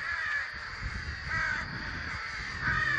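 Rooks at a treetop nesting colony keep up a busy, overlapping cawing chorus, with a few louder nearby caws standing out against the steady flock noise and no voices.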